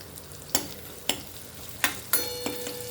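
Crushed garlic dropped into a hot oil tempering with curry leaves and chilli, four or five sharp metallic spoon knocks against the pan over a continuous soft sizzle.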